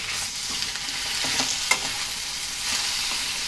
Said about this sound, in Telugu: చింతపండు వేసి ఒకసారి అంతా బాగా కలిపి